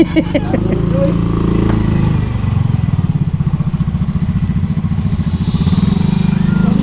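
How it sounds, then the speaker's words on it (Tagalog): The engine of a bangka, a small Filipino boat, runs during a test after gasoline was bought, a loud steady close-up putter that settles into an even rhythm while people talk over the start. "yan yung makina na bibili ni Kahaw"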